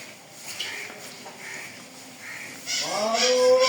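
A Holstein Friesian cow lets out a loud, drawn-out moo near the end, after a few seconds of quiet farmyard background with faint calls.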